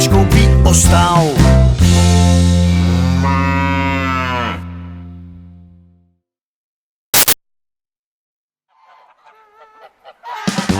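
A cow moos loudly and at length in a long drawn-out call, fading away, followed after a pause by a brief sharp burst and some fainter scattered sounds near the end.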